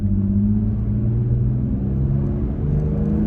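Toyota Tacoma fitted with a Sprint Booster throttle device, driven in Sport 5 mode and accelerating hard; a loud, close, continuous engine roar and deep rumble fill the whole stretch with no talking.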